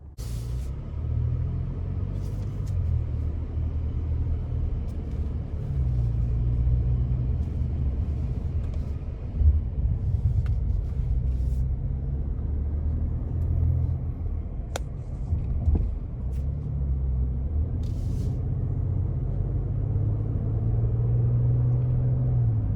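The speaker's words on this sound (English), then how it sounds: "take this 2020 Navigator Reserve out on the road for a test drive" A 2020 Lincoln Navigator Reserve cruising on the road, heard as a steady low engine and road rumble from inside the cabin, with a few faint clicks and bumps over the drive.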